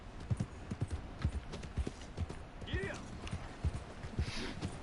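Horse hooves clip-clop across muddy ground in Red Dead Redemption 2, a steady walking rhythm of soft, close hoofbeats with someone talking over them.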